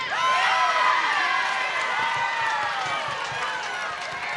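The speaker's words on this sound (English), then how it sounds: "You can hear their home crowd a little bit more rowdy" A rowdy home crowd at a college softball semifinal cheers and shouts in a steady, loud roar of many voices that stays sustained across the whole moment.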